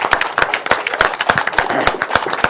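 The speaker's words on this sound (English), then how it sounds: "I want everybody to give these kids a round of applause" An audience claps for a group of kids at a school event, dense and lively applause with sharp individual hand claps standing out, loud and close, with no talk over it.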